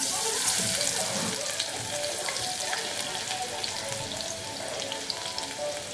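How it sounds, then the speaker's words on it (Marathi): Garlic frying in a pan of hot oil, a steady dense sizzle with faint crackle that holds even throughout, with no talking. "तेल घातलेलं आहे। आता ह्याच्यामध्ये आपण हा लसूण घालूया।"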